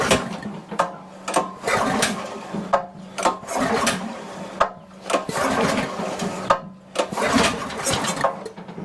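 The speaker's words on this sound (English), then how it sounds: "this thing really needs a good pulling" A flooded pressure washer engine's recoil starter cord is yanked repeatedly, each pull a loud rasping burst followed by brief sputter, about eight pulls in an irregular rhythm, close by with no talking.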